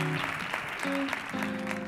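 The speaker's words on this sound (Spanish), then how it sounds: "¡Fuerte el aplauso nuevamente para Russell!" Studio audience on a TV variety show claps steadily in a short burst, with brief tonal music or voice fragments sounding over the applause.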